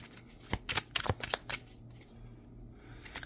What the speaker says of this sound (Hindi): लास्ट कार्ड निकालेंगे